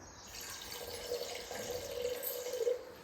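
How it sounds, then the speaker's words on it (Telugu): Water poured into tamarind pulp for a festive Ugadi pachadi drink, a steady soft trickle and splash that swells slightly near the end, close by and quiet with no talking. "దెన్ అందులో మనం కొద్దిగా వాటర్ కలుపుకుందాం"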